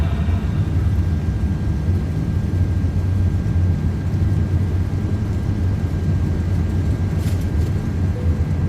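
Airbus A330 engines at takeoff thrust in Microsoft Flight Simulator 2024, a loud, steady broadband roar with a thin whine riding on top, continuous throughout with no talk over it.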